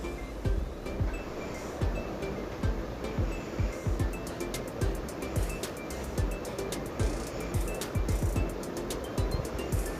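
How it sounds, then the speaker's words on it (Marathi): Sugar is whisked in a bowl for pancake batter, giving a continuous close scraping swish with quick repeated strokes and occasional sharper taps. "आता आपण साखर घेऊ साखर आपल्याला विरगळेपर्यंत फेटून घ्यायची"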